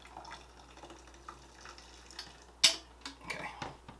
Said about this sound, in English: I think I need to add just a little bit more hot water